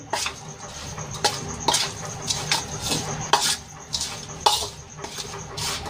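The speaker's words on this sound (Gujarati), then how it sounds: "હવે ગાજરને આપણે સરસ રીતે મસાલામાં મિક્સ કરી લેશું" Irregular clinks and scrapes of a spoon against a pot as carrots are stirred into oily spice masala for a carrot pickle, close and moderately loud, with no one talking.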